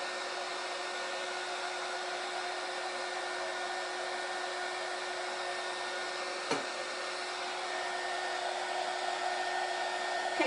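A hair dryer blows steadily for the whole stretch, drying black silk-screen ink on a tea towel, with a close, even whoosh and a tiny knock near the end.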